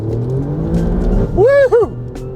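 A race car driven hard in race mode: engine drone under a voice, then a sharp surging rev that rises and falls twice in quick succession, loud and close.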